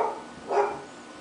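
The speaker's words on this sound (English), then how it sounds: "My dog just started barking." A single short dog bark sounds from nearby, mid-range and brief, standing out over a quiet room background with no other activity.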